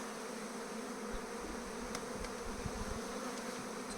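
A freshly caught honeybee swarm hums inside a hive box with frames, a dense, steady buzzing that stays close and even throughout with no voices.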